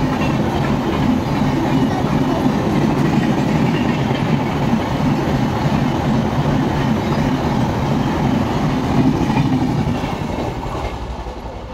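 A train at a Mumbai station makes a loud, steady rumble with rhythmic wheel clatter and faint squeal that runs continuously for about twelve seconds, easing slightly at the end, with no talking.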